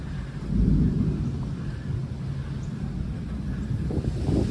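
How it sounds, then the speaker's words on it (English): A deep, rolling thunder rumble from an approaching thunderstorm carries on steadily throughout, swelling slightly early on, with no voices over it. "Got a thunderstorm coming in."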